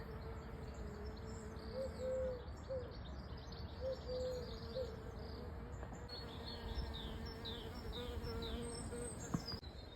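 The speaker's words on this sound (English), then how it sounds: "The bees are buzzing around." Bees buzzing around flowers in a garden with patches of Ceranth and wild carrot, a faint, steady drone of insects in the distance, with birdsong mixed in.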